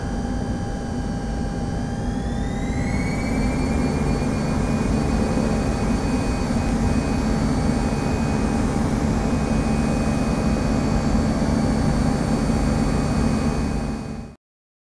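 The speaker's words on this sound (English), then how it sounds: "Cleared for takeoff, runway 1, AV-320." A simulated jet airliner taking off from a runway, a loud steady engine roar with a whine that rises early and then holds for a long stretch before cutting off abruptly, with no voices.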